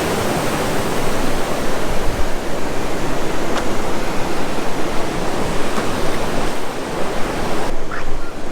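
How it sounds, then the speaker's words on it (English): Ocean surf rolls in beside the Imperial Beach pier on a calm, nearly windless day, a steady, loud wash of breaking waves with no pauses. "Standing right here by the surf."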